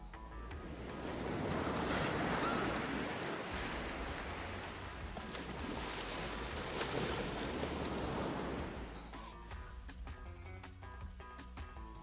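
Waves washing at a lake shore, a steady broadband surf-like rush with some wind, fairly loud and continuous, easing off toward the end.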